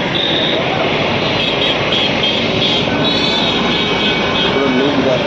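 A Kawasaki Z900 motorcycle with an Arrow aftermarket exhaust roars loud and steady at close range throughout, a dense broadband drone with no breaks, apparently revving in place among a roadside crowd of bike enthusiasts.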